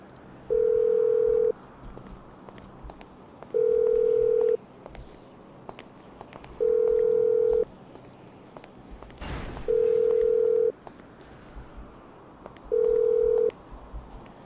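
A phone call rings out in a roleplay video game as a steady ringback tone, five one-second beeps at regular intervals with quiet background noise between them.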